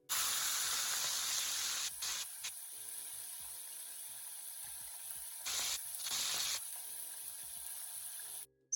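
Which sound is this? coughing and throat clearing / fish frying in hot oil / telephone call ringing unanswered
fish frying in hot oil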